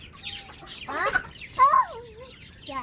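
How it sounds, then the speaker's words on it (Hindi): Roosters scuffle nearby, giving sharp squawks and agitated clucking bursts in an irregular rhythm, with faint voices in the background. "वो मुर्गे लड़ रहे।"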